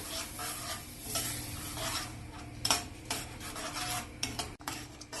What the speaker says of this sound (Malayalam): ഇതിലേക്ക് ഗ്രേവിക്ക് വേണ്ടുന്ന കുറച്ച് വെള്ളം ഒഴിക്കാം. ഇതിളക്കി കൊടുക്കാം.